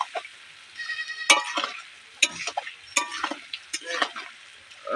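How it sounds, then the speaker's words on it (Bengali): Steady sizzle of potatoes frying for a fish curry, with sharp clinks and scrapes of a utensil stirring in a pan, close by, at irregular intervals. "আলু ভাজা ভাজা হয়ে আসলে তারপরে জল দিয়ে দেবো"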